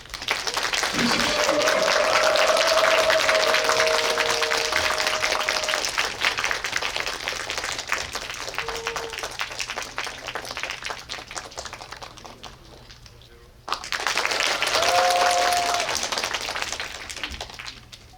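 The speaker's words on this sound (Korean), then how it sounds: "그럼 하얼빈의 주역들을 이 자리에 모시겠습니다. 큰 박수로 맞이해주세요." Sustained audience applause welcoming the cast of the film Harbin at a guest-visit event in the Dolby Cinema hall of Megabox COEX, a broad wash of many hands lasting most of the time, briefly dipping before a fresh loud burst, with a voice occasionally over it.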